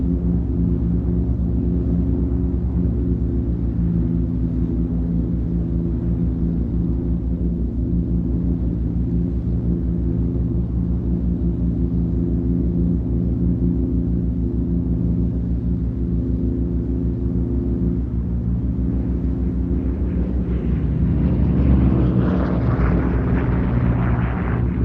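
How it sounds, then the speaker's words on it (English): A Corsair warbird making its final low pass at Duxford, a loud continuous piston-engine drone and rumble that holds steady throughout, then swells as the aircraft closes in near the end. "So as the Corsair calls last pass, we're going to see him come through and then get into the circuit to land"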